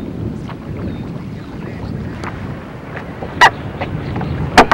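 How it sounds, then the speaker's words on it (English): Wind gusts buffet a fishing boat on open water near Venice, Louisiana, a steady rushing roar with a few sharp knocks and clunks near the end. "the winds definitely not helping it whatsoever"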